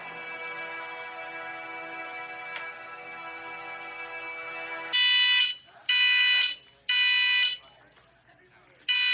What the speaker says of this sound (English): this alarm just starts going off.